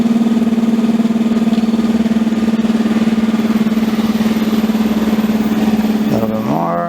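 Electro-magnetic pulse motor spinning at high RPM, giving a loud steady hum with a strong pitched drone that holds, then sweeps and wavers near the end.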